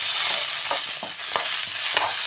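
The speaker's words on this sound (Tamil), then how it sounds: "புளியும் போட்டுட்டு இந்த தேங்காயும் போட்டு நல்லா வணக்கி," Manathakkali greens sauté with tamarind and coconut in a pan, giving a soft continuous sizzle. A few light scraping stirs sound close by, with no voices.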